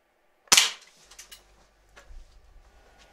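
A World War II style airsoft rifle fires a BB at a stack of CDs with one sharp, loud crack, followed by faint clicks, rustles and a low hum.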